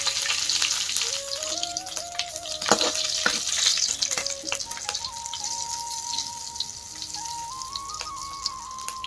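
Panch phoron spices and chilli frying in mustard oil for an Assamese fish curry with ginger leaf, a soft continuous sizzle with scattered crackles and a few stirring clinks, fairly close and without talk.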